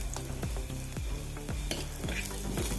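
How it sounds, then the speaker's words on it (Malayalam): Curry leaves and green chilies fry in hot oil in a pan for a Kerala buttermilk curry (moru kachiyath): a steady close sizzle with repeated stirring scrapes every half second or so throughout. "ഇനി കുറച്ച് കരിവേപ്പില ഇട്ട് കൊടുക്കാം"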